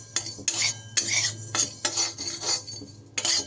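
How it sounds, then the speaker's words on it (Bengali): Whole coriander, cumin and five-spice roast in a dry wok, turned by a metal spatula in quick scraping strokes, roughly seven in a row, close and fairly clear, with little sizzle. "বেশ একটু যেইভাবে ভাজা মশলা আমরা তৈরি করি একটু লাল লাল করে এটাকে ভেজে নেব"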